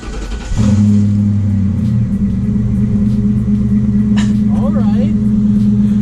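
An old Ford Mustang engine, unstarted for seven years, cranks and catches, then settles into a steady, loud low rumbling idle that keeps running close by.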